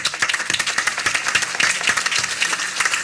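A crowd claps for a highway bypass project team at an outdoor ribbon-cutting ceremony, sharp individual hand claps blending into steady, fairly close applause for about three seconds.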